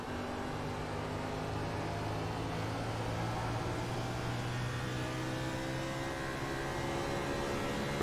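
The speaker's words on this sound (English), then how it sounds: "Can hear the tires scrubbing as he's driving fairly hard" Tires scrubbing on a car driven hard at Phoenix Raceway in a racing game, a steady whirring engine drone with continuous tonal hum throughout, fairly faint and with no talking.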